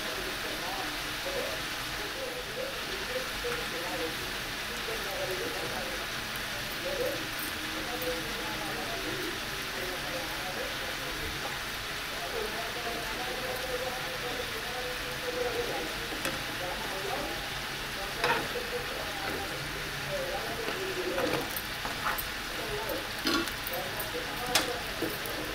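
Potato and flour breakfast snacks fry in a pan with a soft, continuous sizzle and occasional crackles, held at a steady moderate level for about twenty-five seconds while a voice talks over it at times.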